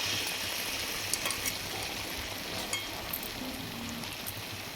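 Small balls of wheat flour bonda batter fry in hot oil, a soft continuous sizzle with occasional faint pops and clicks, fairly quiet and close, with no talk.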